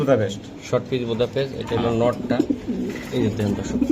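Budapest racer pigeons coo in repeated soft, throaty bursts close by, with people talking over the calls.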